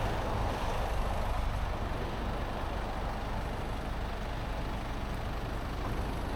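A truck being winched out on a beach, with a steady, loud engine rumble and broad noise throughout, and no talk.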